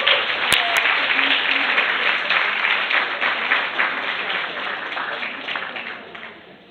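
A live audience gives sustained applause in a French venue, a thick wash of many hands clapping at once that holds steady then slowly tapers off, with faint voices underneath.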